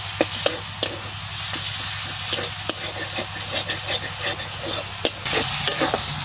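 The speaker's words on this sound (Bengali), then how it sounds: "মশলা আমার ভালো করে ভাজা হয়ে গেছে," Spices fry in a pan for a duck curry, a continuous sizzle with sharp scraping stirs and clinks of the spatula scattered through, steady and close.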